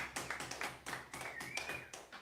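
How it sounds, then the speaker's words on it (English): Concert audience clapping along in steady, rhythmic claps, close and fairly loud, with a high sustained tone running beneath, no talking. "everyone around me is clapping right now."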